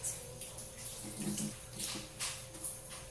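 Tap water running steadily into a sink while honey and sugar facial scrub is rinsed off, with faint splashing of hands in the stream, close and continuous.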